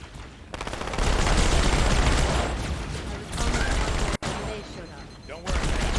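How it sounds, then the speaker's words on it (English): Explosions and rapid gunfire from Halo 2: Anniversary combat, a dense loud barrage of shots and blasts that rises and dips, with one sharp cutoff midway. "And the sound of explosions."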